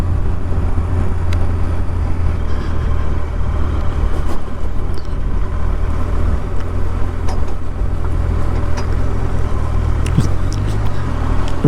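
A rear-steer wagon lorry drives past on a road, its heavy engine drone and tyre rumble steady and loud throughout, with some wind noise and no speech.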